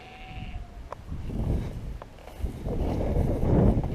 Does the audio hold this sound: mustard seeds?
no